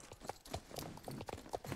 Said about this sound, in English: I actually just really want to see what this horse's gaits are. So I want to see walk